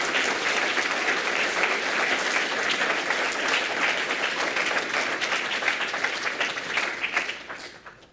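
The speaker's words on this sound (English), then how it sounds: "Maybe let's have some applause for our award winners." Sustained applause from an audience at a physics department welcome event honoring award winners, a dense even wash of clapping that holds for several seconds then fades out.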